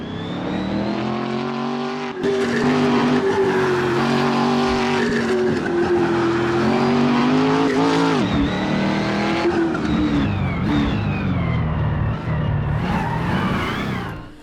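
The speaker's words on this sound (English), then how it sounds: "Phil set a strong early benchmark in his preferred Aero 8" A Morgan Aero 8 racing at Loton Park hillclimb, its engine loud and close as it revs hard through the gears, pitch rising and dropping with shifts and braking, with no voices over it.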